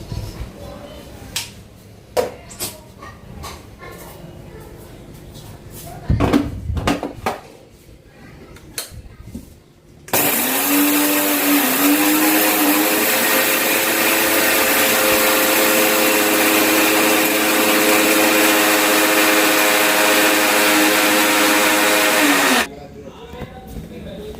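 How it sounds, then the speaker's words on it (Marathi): A mixer grinder milling a homemade weight-loss powder starts with a loud, steady whirring drone that runs about twelve seconds and then cuts off abruptly. Before it starts there are handling knocks and clicks, and a voice is heard. "मी आता या भांड्यामध्ये ना थोडं थोडं करून दळून घेते मिक्सरमध्ये"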